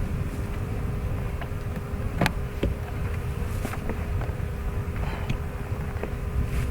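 Honeybees from a newly installed package hive buzzing near a narrowed entrance, a faint steady drone with occasional louder passes of single bees close by, outdoors with no talking.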